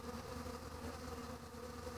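Bees buzzing at a beehive entrance, a steady close drone of many insects humming together without break, fairly quiet and alone.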